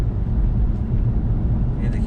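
Inside a BMW 520d M Sport on an uneven road, a steady low rumble of road and tyre noise fills the cabin, and a faint voice murmurs underneath it.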